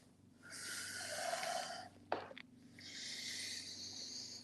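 Slow, airy breathing during a wide-legged yoga fold: a long breath, a brief snort-like catch, then another long exhale, close and quiet over a low hum.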